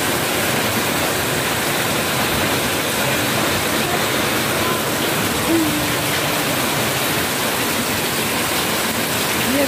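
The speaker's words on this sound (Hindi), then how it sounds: "पानी इकट्ठा कर रही है बाल्टी में" Rainwater pours steadily into a bucket during a downpour, a dense continuous rushing splash that holds loud throughout, with a faint voice briefly audible.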